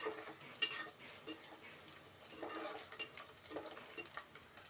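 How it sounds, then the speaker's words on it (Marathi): Onion and tomato sauté in a pan for a Malvani crab curry, with crackling sizzle and intermittent scraping stirs of a utensil against the pan, close and clear. "छान ब्राऊन रंग येईपर्यंत मस्त असं परतून घेते कांदा टॅमॅटो छान असं गुलाबी रंगावर परतलं गेलंय"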